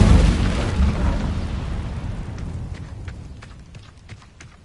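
An Incendio fire spell goes off in Hogwarts Legacy with a heavy, rumbling whoosh of flame that starts loud and decays slowly, followed by faint crackles and small pops as it dies away.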